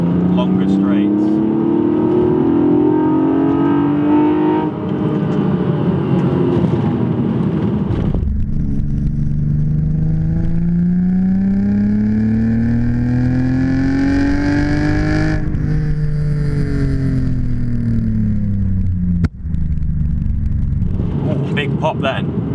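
A Toyota Supra with a 2JZ engine and individual throttle bodies revs and pulls hard in second gear on a winding road, the loud in-cabin drone rising and falling continuously with a sharp pop near the end.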